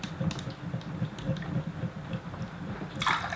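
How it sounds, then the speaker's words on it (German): Water runs and trickles steadily out of an Aram espresso maker, a quiet continuous flow with faint splashing, heard close up and without talk. "jetzt fängt schon das Wasser rauslaufen"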